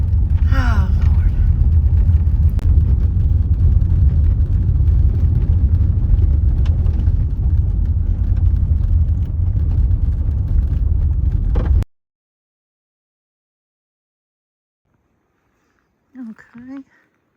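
A car drives along a gravel road toward a forest trailhead in Pisgah National Forest, North Carolina, a loud, steady rumble and road noise that cuts off abruptly, followed by silence and a brief voice.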